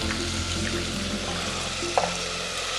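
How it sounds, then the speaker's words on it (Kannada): Drained green peas go into a hot pan for an aloo batani gravy, giving a steady, soft frying sizzle with a small clink partway through. "ನೀರೆಲ್ಲ ಬಗ್ಸ್ಬಿಟ್ಟು ಬಟಾಣಿ ಹಾಕೋತಾ ಇದ್ದೀನಿ"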